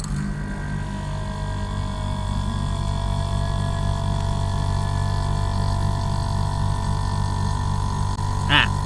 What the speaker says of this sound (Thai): อันนั้นคือเสียงคอมเพรสเซอร์นะครับ ตอนนี้คอมเพรสเซอร์ทำงานปกตินะครับ